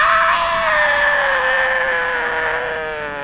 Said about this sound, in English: Like proper screaming, proper horror scream.